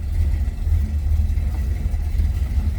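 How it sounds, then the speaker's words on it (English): A 1960 Ford Starliner Club Victoria hardtop with a 351 V8 and quench heads idles steadily after starting, a deep, even, throaty rumble held close and loud with no talk over it. "I'm gonna go ahead and fire this up. See how easily it starts."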